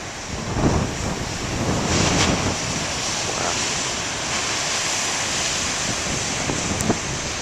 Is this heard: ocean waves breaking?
yes